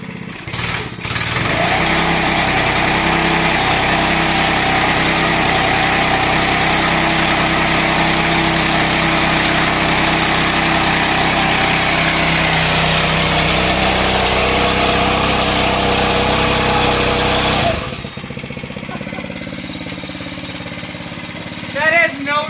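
A 105cc gas-powered mini bike engine runs loud and close, with a buzzy blipping rev that holds for about seventeen seconds before cutting to a quieter idle, and brief voices at the end.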